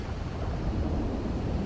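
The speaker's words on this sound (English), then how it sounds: "Really, a thunderstorm now of all times." Thunderstorm in the video game GTA 5, a loud continuous low rumble of thunder mixed with heavy rain and wind, with no voices.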